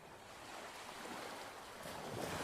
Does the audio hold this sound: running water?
yes